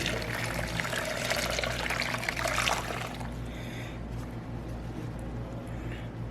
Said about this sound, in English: we're going to take this to the strainer and just make sure there's no cooked egg.